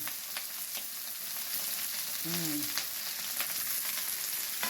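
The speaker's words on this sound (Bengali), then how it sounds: "এবারে চিনটা দিয়ে দিলাম এবারে গাজরটা দিলাম" Carrots and mixed vegetables fry in a pan for daliya, giving a steady, soft sizzle throughout with one brief squeak of a utensil midway.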